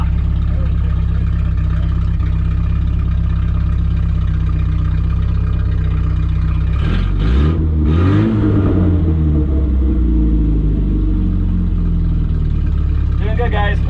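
A 1972 Opel GT that sat for decades in a junkyard runs while being driven. Its engine gives a loud, steady low rumble that swells and revs around the middle, with a voice talking over it.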